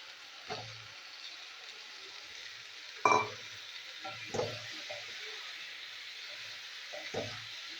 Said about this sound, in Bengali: এই মশলার মধ্যে আমি শিমটা কষিয়ে নেবো।